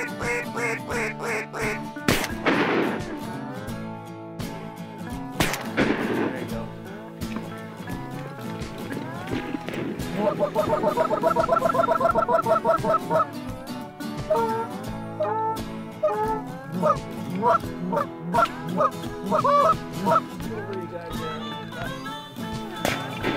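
Ducks quack repeatedly and loudly throughout a waterfowl hunt, a dense, continuous chorus of calls with some bursts swelling over the others, close by and with no talk over them.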